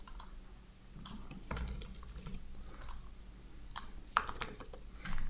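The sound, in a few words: typing on a computer keyboard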